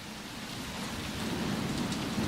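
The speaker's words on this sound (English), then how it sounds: "I believe the rain sounds out here is gonna mask me a little bit." Steady rain pours down in a Resident Evil video game, a continuous broadband hiss of drops spattering surfaces outdoors, growing slightly louder toward the end, with no one talking.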